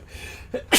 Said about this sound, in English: Excuse me, I feel like a sneeze.